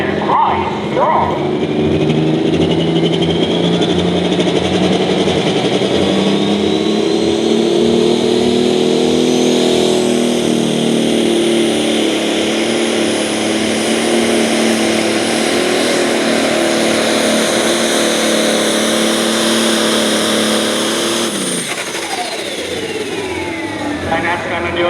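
John Deere 7520 pulling tractor with a road stock engine roars loud and steady through a long pull at a truck and tractor pull in Ohio, pitch climbing then dropping off near the end, with an announcer talking over it.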